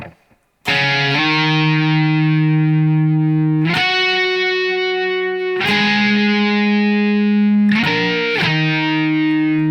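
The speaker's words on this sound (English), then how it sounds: "during the second verse, you'll hear that lead part that kind of goes" A distorted electric guitar plays the lead part from a song, sustained notes, each chord or note ringing out with a sharp attack and long buzzing sustain.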